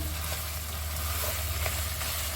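A tomato paste masala fries in a little oil, giving a steady, dense sizzle at moderate volume with no talking.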